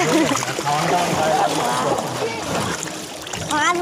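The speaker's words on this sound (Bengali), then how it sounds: "হরি জল ভরছে" Water being filled from the Ganges river at Bagbazar, with splashing and sloshing close by under nearly continuous voices talking throughout.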